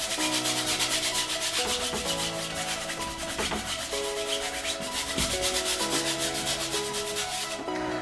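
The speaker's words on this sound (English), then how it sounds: "with a bit of a scrubbing motion, we're going to take the oil and drag it in towards the center" A paintbrush scrubs oil paint onto a canvas in steady, continuous rubbing strokes, close and fairly loud, with faint music underneath and no talking.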